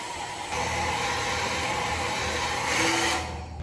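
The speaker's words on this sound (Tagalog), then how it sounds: "bumili ako ng blower, hair blower para pang ayos ng buhok ko" A handheld hair blower runs steadily, a loud continuous whooshing roar that swells slightly near the end before cutting off.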